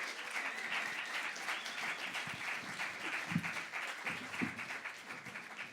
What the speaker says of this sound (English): Can we give a big warm round of applause